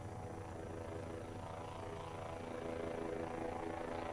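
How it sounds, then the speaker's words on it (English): In the video game Voices of the Void, a delivery drone flies overhead at evening, a steady low mechanical rotor drone with a faint whine that grows slightly louder toward the end. "There's our evening drone delivery."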